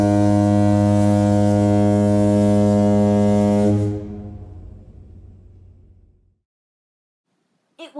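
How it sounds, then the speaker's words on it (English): A ship's foghorn sounds from the dock: one deep, low, loud blast that holds for about four seconds, then fades into a lingering rumble, followed by silence and a brief faint sound at the very end. "the ship blew its foghorn."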